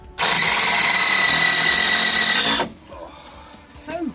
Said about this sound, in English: It's actually fun screwing stuff in.